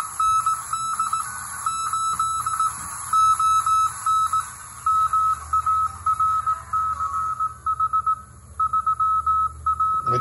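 Steady CW Morse tones come through a TJ 40 direct conversion receiver connected to an antenna with a counterpoise, keyed in on-off bursts over a constant hiss and faint whine, with no voices.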